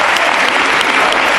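Applause and ovation in the Spanish Congress for Ábalos from the benches on the left: a dense, loud, steady wash of many hands clapping with no voices over it.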